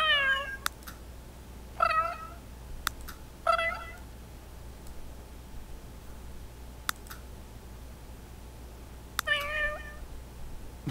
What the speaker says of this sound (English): So you get to choose between different meow meows.